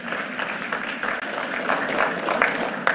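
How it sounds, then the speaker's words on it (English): An audience applauds the hosts of a major event, a full, continuous ripple of many hands clapping with a few scattered voices, steady throughout. "Please give them a round of applause."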